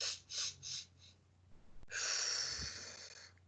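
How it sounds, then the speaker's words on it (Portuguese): Close, breathy sobbing demonstrated by a person: several quick, uneven catches of breath, a short pause, then one long shaky drawn-out exhale, with no words spoken. "Soluço é isso aqui, ó."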